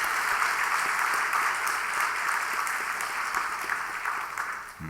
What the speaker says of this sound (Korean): 우리 다시 한번 박수 쳐드리겠습니다